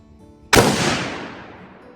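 A single sharp .243 rifle shot cracks out at a range while a scope is being sighted in, followed by a long decaying echo tail that trails off over more than a second.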